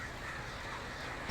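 Flock of crows cawing in the game Alan Wake Remastered, harsh overlapping caws in a brief dense burst over a rustling background.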